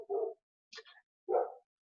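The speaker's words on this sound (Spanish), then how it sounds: "Perdón por los perros, es que aquí hay como una pelea en la colonia." Dogs barking during a fight out in a residential neighbourhood: two loud, close barks separated by a higher yelp, heard alone without any talking.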